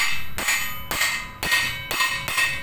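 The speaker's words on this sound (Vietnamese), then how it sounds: "Mình để cốt vô đây, để cốt vô ngay cái lỗ bạc đạn là mình đóng vô lại" A bearing shaft is hammered into a bearing hole with six sharp, ringing metallic strikes at an even pace about half a second apart, loud and close, each blow decaying before the next.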